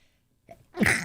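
A single sharp sneeze bursts out at the very end after a faint intake of breath, close and fairly loud.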